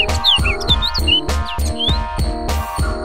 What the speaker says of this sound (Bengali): কত ভালো ভালো পাখির কলরব শুনতে পাচ্ছি।